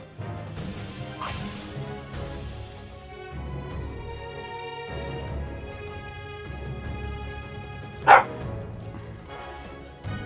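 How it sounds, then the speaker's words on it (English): A pet dog barks and yelps indoors in brief bursts, with one sharp, loud bark standing out near the end over a steady bed of game music. "He's decided he wants to be here squeaking his toy and barking at me today."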